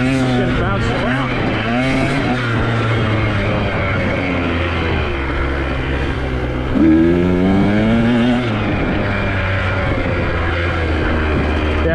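A dirt bike engine revs and drones continuously while riding the red trail at Danitek, rising and falling in pitch with throttle changes and loud close up, with a voice talking over it at times.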